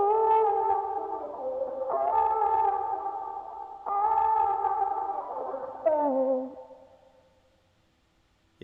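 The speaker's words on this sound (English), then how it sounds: "I call it the far away plugin, and you'll hear kind of what this is going to do" Music run through a reverb-heavy 'far away' effect plays as sustained, distant-sounding synth chords with washy echo, shifting through a few changes before fading out near the end.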